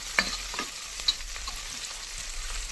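Bay leaf and whole spices are stirred in a hot pan until browned for bagara rice, producing a soft, continuous sizzle with a couple of sharp utensil clinks near the start and no voices.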